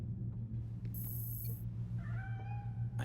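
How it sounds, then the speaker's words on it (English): A stray cat meows in the video game Gotham Knights, a short rising call followed by a clearer sustained meow, heard alone over a steady low background rumble. "Aw, that sounds like a stray cat."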